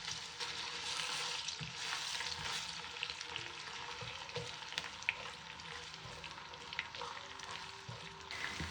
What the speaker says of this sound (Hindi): लहसुन अदरक को इतना ही फ्राई करेंगे।